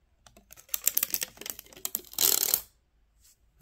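Protective film being peeled off a new Ender 3 V3-SE 3D printer, a close crackling, ripping sequence of small taps and rustles building to a loud sustained tearing rip, then stopping.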